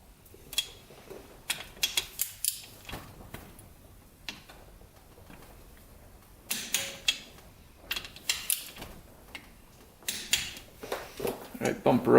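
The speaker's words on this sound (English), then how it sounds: "We're going to torque these to 11 foot-pounds going into crisscross pattern" A torque wrench clicks and ratchets sharply as bolts on a Yamaha Raptor 700 ATV are tightened in a crisscross pattern, close by in scattered bursts with pauses between.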